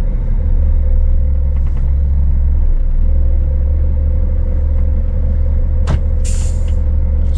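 A vehicle's engine drones at a steady loud pitch while its wheels spin, stuck and failing to pull away on rough off-road ground near a winter road, with a brief sharp clank partway through.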